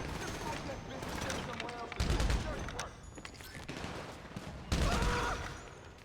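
Gunfire aimed at a tank in GTA Online, fairly quiet rattling bursts in the background, with two louder booming hits standing out partway through.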